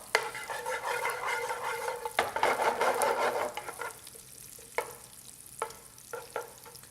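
Minced garlic sizzling in oil in a pan while cooking Mediterranean spinach. A busy, crackling fry dominates the first few seconds, then fades to a quieter simmer broken by occasional utensil clicks.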